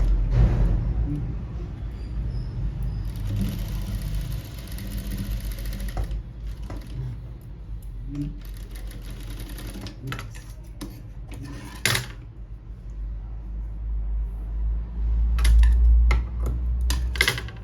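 A sewing machine stitches a sharara garment up close, running in steady mechanical bursts with ticking, clattering rhythm and brief pauses between runs.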